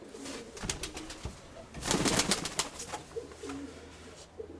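A flying pigeon, ring number 32, coos close by in soft, throaty rolling calls, with a brief louder flutter of rustling in the middle and no talking.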